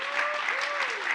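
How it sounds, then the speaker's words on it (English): Applause from the audience at a film panel on independent filmmaking, a steady wash of many hands clapping at a moderate level, with a faint whistle-like tone drifting through it. "Big round of applause."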